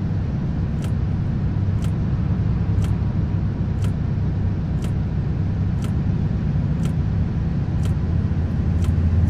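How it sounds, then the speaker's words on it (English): Trucks pass on the road as a continuous loud rolling rumble, with sharp clicks recurring about once a second over the steady engine and road noise. "See, there's trucks passing us left,"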